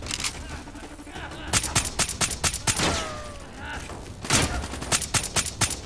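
Bursts of rapid gunfire from Call of Duty Black Ops 3, sharp repeated shots in clusters against a rumbling game background, with a voice briefly talking in between.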